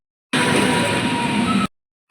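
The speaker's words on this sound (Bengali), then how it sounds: "এই স্টেশনে ট্রেন চলে এসছে" A train pulls into a station, a loud steady rumble of rail cars and wheels for just over a second that cuts off abruptly, then returns briefly at the end.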